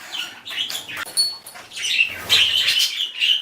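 Pet budgies chirping and fluttering inside a flight cage, rapid high twittering calls mixed with bursts of wing flapping, close and lively with no talking.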